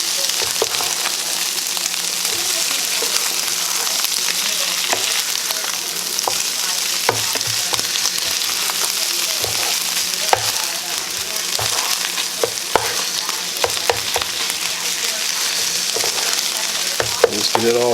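Hash breakfast with egg frying in a pan, a steady close sizzle running throughout with scattered scraping clicks of a utensil stirring and breaking it up, no voices.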